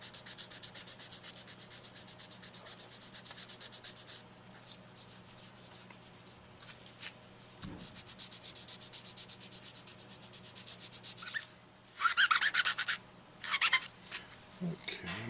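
A chipped tip being sanded with 400 grit sandpaper: close, scratchy rubbing strokes in a steady rhythm, getting louder in harsher bursts near the end, with brief bits of talk.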